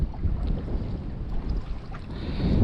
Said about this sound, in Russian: Ветер не утихает, волна.